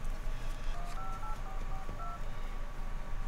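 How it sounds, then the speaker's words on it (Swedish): Telephone keypad tones beep in a quick sequence of short paired pitches as a number is dialed for a call, set against a steady low background hum. "Bra, jag ringer igen."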